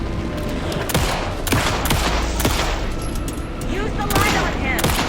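Gunfire in the video game Alan Wake 2: a rapid burst of sharp shots fired in quick succession over tense game ambience, loud and close throughout.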